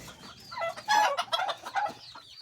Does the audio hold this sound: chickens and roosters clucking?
yes